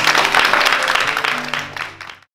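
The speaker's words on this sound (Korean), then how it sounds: "다시 한번 큰 박수 부탁드립니다." A big round of applause from the audience at a forum concert, dense clapping that fills the short span at close range, then fades out and stops.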